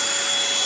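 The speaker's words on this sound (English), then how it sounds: "now I can do the tight surfaces of my steps, or I can vacuum the car" Eureka Blaze Swivel lightweight vacuum cleaner running with a steady, loud, even motor whine and broadband airflow hiss, close by and alone, no change in pitch across the short stretch.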